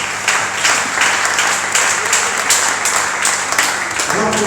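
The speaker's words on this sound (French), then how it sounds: "Est-ce qu'on peut acclamer pour la gloire de Jésus?" A church congregation at a Wednesday service claps steadily and loudly, a dense wash of hand claps with a faint voice emerging near the end.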